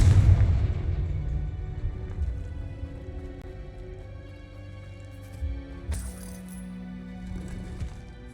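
A Confringo blasting spell in Hogwarts Legacy bursts with a loud, deep explosive boom, then a long rumbling decay with scattered crackles and a smaller burst near the end.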